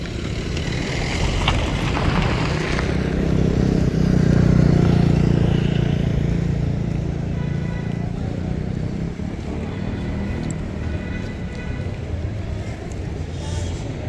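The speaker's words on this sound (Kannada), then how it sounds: "Bihar Bagalkot B S three ಗಾಡಿ ನೋಡಿ ಅದು" A Bagalkot BS3 bus pulls into Navanagar bus stand in Bagalkot. A loud, steady engine rumble swells and then settles, with busy station noise around it.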